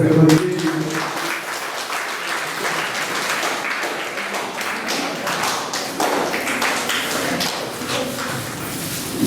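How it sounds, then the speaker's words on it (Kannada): An audience at a Kannada folk-culture award ceremony breaks into loud, sustained applause, a dense crackle of many hands clapping steadily nearby with a voice faintly underneath. "ಜೋರು ಚಪ್ಪಾಳೆಯನ್ನು ತರಿಸಬೇಕು"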